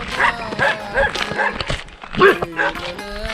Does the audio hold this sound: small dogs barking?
yes